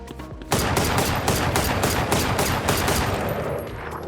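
Automatic gunfire from the game Valorant starts abruptly after half a second and continues as a loud, rapid, evenly spaced burst of shots for about three seconds before easing slightly.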